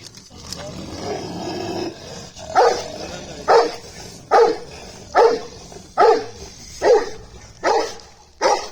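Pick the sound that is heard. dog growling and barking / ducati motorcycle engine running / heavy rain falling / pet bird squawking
dog growling and barking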